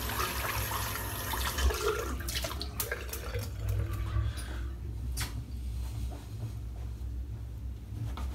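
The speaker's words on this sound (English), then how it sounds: "rinse the soap off" Water running and splashing as soap is rinsed out of a shaving brush at a sink, a steady wash of flow with some brief clatter, heaviest early and easing off toward the end.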